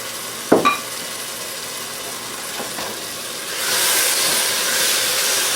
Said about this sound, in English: That shows that the masala is getting fried very nicely